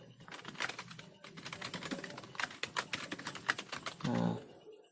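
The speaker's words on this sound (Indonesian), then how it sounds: "akan ketikkan dulu judulnya Rayuan Pulau Kelapa" Close fingers type a title on a computer keyboard in Microsoft Word, a quick irregular run of light key clicks with brief pauses, ending in a short heavier key press.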